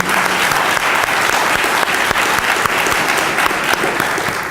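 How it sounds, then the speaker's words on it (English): Loud, sustained audience applause fills the hall, dense clapping from a large crowd at close range with no pauses and no voices over it. "by a show of applause, don't our children deserve hope, safety, and health, right?"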